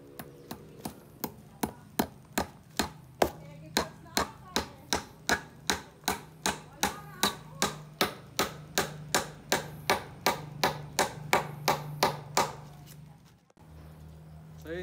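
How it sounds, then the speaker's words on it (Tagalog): Steady hammer blows drive nails through a tarpaulin liner for a homemade pond, about thirty sharp, evenly spaced strikes at a brisk rhythm, close and loud, stopping near the end. "natapos ko na ipako lahat nung trapal"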